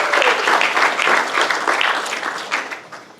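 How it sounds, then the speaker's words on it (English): Audience applause fills a dedication ceremony for a university golf performance center, a dense, steady burst of many hands clapping up close that holds loud for about three seconds before thinning slightly at the end. "So let's clap it up one more time."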